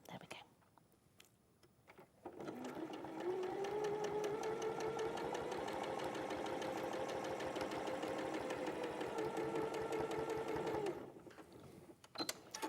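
A sewing machine stitches quilt pieces in a steady, fast whirring run of about eight seconds, close but fairly quiet, starting and stopping abruptly with soft sounds around it.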